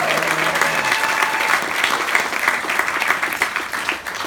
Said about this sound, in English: Can we get a round of applause for Amanda?